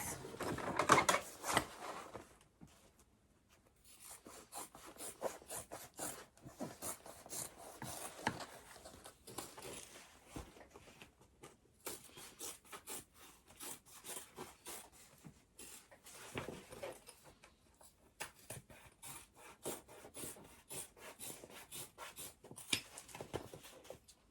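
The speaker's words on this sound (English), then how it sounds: "And then I'll trim down the excess." Excess fabric trimmed while making a sling, heard as quiet, steady rapid snipping and rubbing close by, running continuously with a slightly louder burst at the start.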